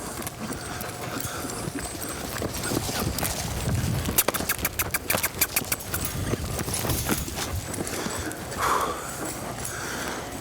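A horse walks with a rider aboard during a riding lesson, its hooves clip-clopping in a steady rhythm at close range, with some rustling, a few sharp clicks midway and a brief faint voice.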